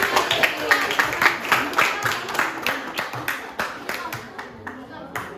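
A classroom group claps in quick rhythmic bursts, sharp close hand claps repeating steadily over several seconds and gradually thinning out, with voices talking underneath.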